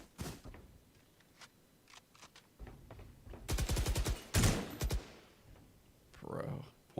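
Gunfire in a tactical shooter match: a few sharp shots early, then two dense bursts of rapid automatic fire in the middle, loud and close, with a softer rumble near the end.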